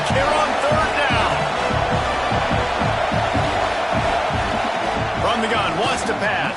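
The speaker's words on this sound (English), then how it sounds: "This Auburn crowd trying to conjure up a little magic here on third down." Stadium crowd roars and cheers throughout at Auburn during a third-down play in an NCAA football video game, a loud, steady wash of noise with sharp bouncing thumps, while a commentator talks over it.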